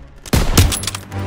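A Call of Duty: WWII firefight in a town square brings two sharp, loud rifle or machine-gun shots close by, followed by quieter scattered shots and a low rumble.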